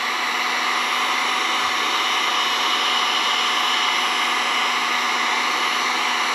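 A heat gun blows a steady, loud, unbroken rush of hot air as it works around the edges of a stick-on NOSO patch, with no talking.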